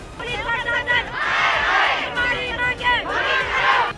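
A protesting crowd in uproar on a street, many voices shouting and yelling together in swelling waves, loud and close, a continuous agitated clamor.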